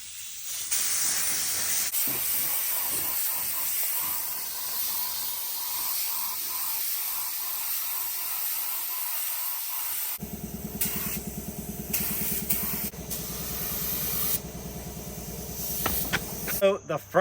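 A spray can hisses in long continuous bursts while painting a square body truck teal, close and steady, later broken into shorter sprays with rattling and clicks near the end.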